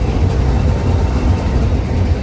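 Steady low rumble of a train, an engine droning continuously and evenly throughout.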